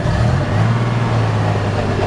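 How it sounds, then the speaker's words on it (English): A 1965 Chevrolet C-10 shortbed pickup truck grinds slightly in first gear while its old engine drones loudly and close, with a brief rough grinding texture and no talking. "I wanted you to hear that little grind in first gear."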